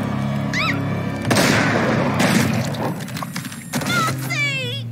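A loud burst from a gunshot in the animated show Helluva Boss, with booming noise, overlapping cartoon sound effects and music, and sweeping whistle-like tones before and after.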